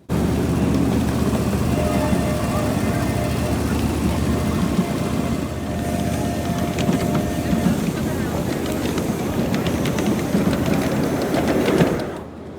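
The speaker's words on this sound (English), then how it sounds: "After a brief wait, Monon 96 roared into life and took our tiny train out of the station." Monon 96 steam locomotive pulling a tiny train out of the station at the Hesston Steam Museum's 2024 Steam and Power Show; a continuous low rumbling chug with faint tonal whistling above, steady and fairly close, dropping away at the end.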